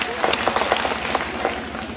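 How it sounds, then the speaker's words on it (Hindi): A crowd at an outdoor political rally in a village panchayat claps in a dense, steady burst of applause, with voices mixed in the background. "ताली बजाओ उनके लिए।"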